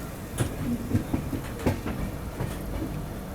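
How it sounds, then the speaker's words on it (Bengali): The 12881 Puri Garib Rath Express rolling into Puri station in the early morning rain, heard from on board as a steady low rumble with rhythmic clickety-clack of wheels over rail joints, no talking. "পুরী স্টেশন ঢুকছে আমাদের ট্রেন।"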